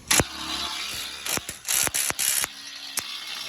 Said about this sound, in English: you want to go ahead and tighten those two bolts back up